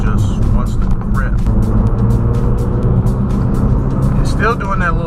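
Ford Focus RS with all-wheel drive under way, a steady loud engine and road drone filling the cabin throughout while someone talks over it.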